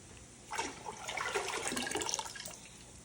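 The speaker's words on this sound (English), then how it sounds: "we got 4 cups of white vinegar. We're gonna put it In there." White vinegar pouring into a container of sugar water for squash pickles, a soft continuous splashing gush lasting about two seconds, close and fairly quiet, with no talking.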